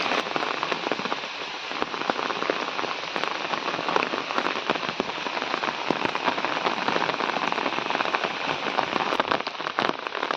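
Heavy rain pours steadily over a paddy field in Odisha, a dense, loud, unbroken hiss of drops beating on water and crops for the whole stretch, with no voices.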